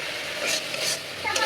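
Potatoes frying and being stirred in a pan with papaya, a steady close sizzle with scraping stirs rising in short bursts throughout.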